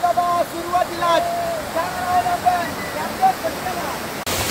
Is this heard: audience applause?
no